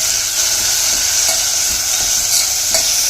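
Continuous bright sizzle of garlic frying in hot oil, with faint stirring clicks here and there, close and steady throughout.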